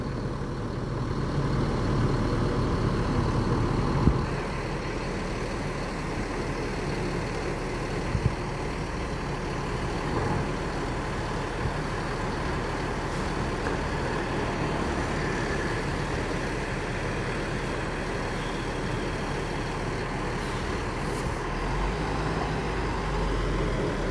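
An MPM Alhijrah bus rolls along the road with a steady, low engine rumble and road noise, continuous and fairly close, broken by a couple of faint knocks.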